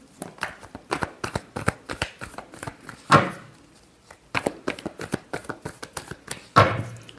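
A deck of tarot cards is riffled and shuffled by hand during a love reading, producing quick rustling flutters in bursts and two sharper slaps as the deck is squared, with no voices.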